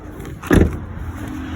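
A single electric window motor on a Hyundai Accent whirrs briefly inside the car, a short mid-loud hum lasting about a quarter second over a quiet background.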